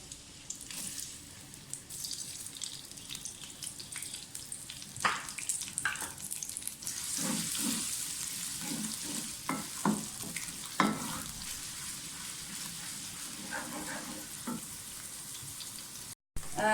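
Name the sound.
onions frying in a hot pan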